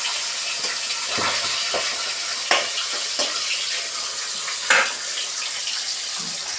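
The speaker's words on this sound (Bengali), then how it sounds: "এবার আমরা মাছ ভাজাটা দিয়ে দেব। এই মাছ খুব ফোটে, তাই একটু দূরে সরে যাবেন।" Pabda fish fry in hot oil for pabda macher jhal, a loud, continuous sizzle broken by sharp spattering pops and a few utensil knocks, with no one speaking.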